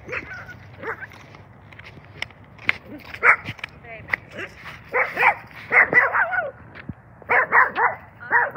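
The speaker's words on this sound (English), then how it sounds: "Oh, there's a dog." A dog barks and yips in short, repeated bursts outdoors, fairly close and growing louder toward the end, with people talking intermittently and a low steady background rumble.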